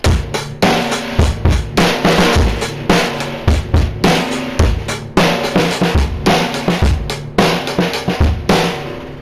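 A rock drum beat played steadily with kick, snare and hi-hats, broken up by a few quick fills, loud and close.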